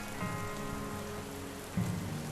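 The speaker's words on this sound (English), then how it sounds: "the rain starts to pick up as his body lies dead in the street" Steady rain falls on a surface as tabletop game ambience, a close, constant patter that swells slightly toward the end, with no voices.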